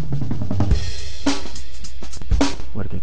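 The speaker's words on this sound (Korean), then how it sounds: "그리고 이 킥소리 왜 이래?" Kick drum from Addictive Drums drum software with a Pearl Master piccolo kit, thumping twice through a short dense drum pattern with cymbal wash over it, loud and close.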